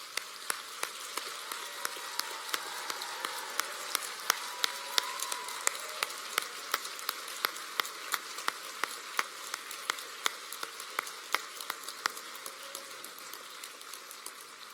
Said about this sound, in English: give a huge round of applause to the lecturers